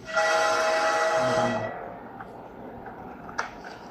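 A train horn from the horror video game Choo-Choo Charles blares loudly for about a second and a half, then cuts off, leaving low rumbling and a few faint clicks.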